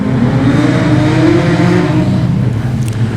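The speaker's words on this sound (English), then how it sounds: "We go back to Jack Stead, Andrew Corbett, still battling with the car to try and get it home" A production sedan race car engine roars steadily and loudly at Kingaroy Speedway during a Silver Helmet Series heat, holding a continuous droning note close by for the whole stretch with no voices.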